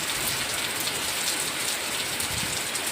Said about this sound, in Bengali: প্রচণ্ড জোরে নেমেছে বৃষ্টি